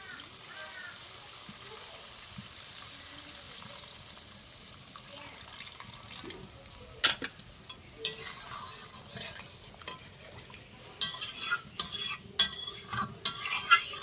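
A spoon stirs a potato curry in a pan under a soft, steady sizzle, and paneer soaking water is poured in, followed by irregular clatters and scrapes that grow busier toward the end.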